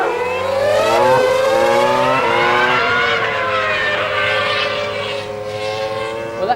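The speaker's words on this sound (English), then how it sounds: "There's a nice little bit of wheel spin." A Formula One car at Silverstone in 1999 launches from the start with wheel spin, its engine screaming loud and close as revs sweep upward through rising and dipping pitch, with no talking.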